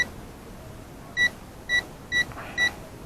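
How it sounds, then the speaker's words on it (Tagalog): A multimeter tester set to continuity gives four short electronic buzzer beeps at an uneven pace over quiet background noise, with no talking. "Yan yung buzzer."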